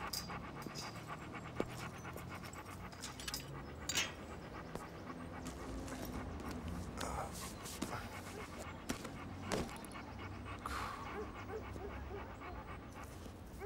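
A shepherd dog pants in quick, rhythmic breaths, faint and close, with a few soft clicks and shuffles around it.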